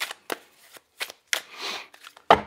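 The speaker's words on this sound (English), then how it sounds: "All right, I'm just going to shuffle." Tarot cards are shuffled in a few quick riffling bursts, crisp and close, with short pauses between them.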